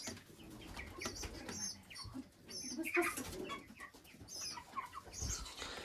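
Chickens cluck and coo close by in a busy yard, with scattered bird calls overlapping continuously.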